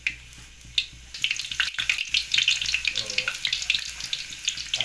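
Onions dropped into hot oil in a pan for chicken curry, a close, bright sizzle building after a few scattered clatters and continuing busily, with faint background noise and no talking.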